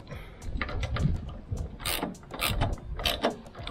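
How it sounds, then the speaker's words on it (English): A hand ratchet fitted with an 8mm socket works loose a nylon nut on a steel stud of a caravan stabilizer leg, giving several close bursts of clicking and turning strokes. "I have an 8mm matrix socket on my ratchet to unlock it."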